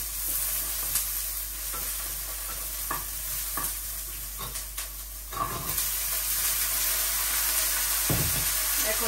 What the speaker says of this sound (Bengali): আলু বেগুন টমেটো দিয়ে দিচ্ছি।